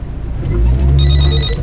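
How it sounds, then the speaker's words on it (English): Mobile phone ringtone going off inside a moving car, a repeating high electronic trill over the loud low hum of the engine and road. "grab the phone, bring it around to the front, say hello"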